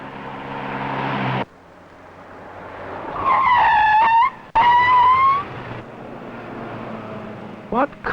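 Car braking hard on a road, tyres skidding and squealing loudly in two long screeches, followed by quieter noise and a brief final tyre chirp.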